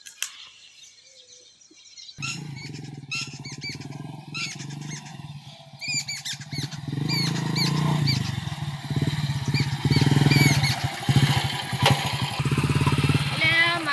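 A motorcycle engine starts up and idles with a steady, throbbing low rumble, while birds chirp and tweet loudly nearby.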